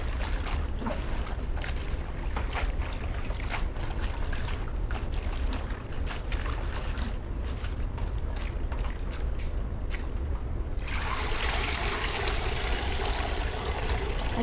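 Leafy greens and vegetables being washed outdoors under running water: a steady splashing rush with scattered clicks and knocks, and the flow grows brighter and fuller near the end. No one speaks.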